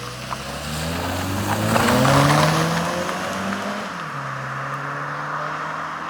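A 2024 Mazda 3 with the 2.5 liter engine drives along, its engine note rising in a steady drone with shifting harmonic tones, then settling lower and continuing at an even level throughout.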